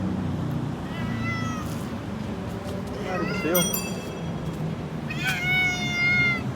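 A cat at a market meows repeatedly, several drawn-out, wavering cries close by, with a person talking over and between them amid background noise.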